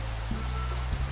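Rain falls in the Minecraft video game as a soft, steady hiss, quiet and continuous with a faint low hum underneath.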